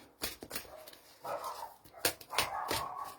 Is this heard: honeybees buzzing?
no